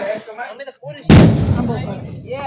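A Diwali firecracker bomb bursts with one sharp, very loud bang that rings out and decays over the next second, with talk before and after it.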